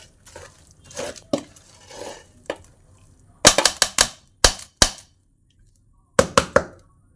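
Tapioca, chicken and roasted coconut being mixed in a pan, with a utensil scraping and sharp clacks striking the pan in irregular bursts, close and fairly loud.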